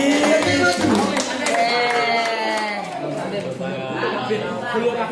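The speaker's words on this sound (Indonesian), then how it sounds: "kita kasih tepuk tangan." An audience at a school event claps in a short burst of applause, sharp hand claps spread through the first moments, while people talk over it and chatter carries on after.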